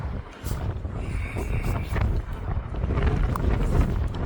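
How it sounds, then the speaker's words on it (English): Strong wind buffeting the microphone on Middleton Pier, a loud, gusting low roar that swells and surges continuously without let-up. "It is windy."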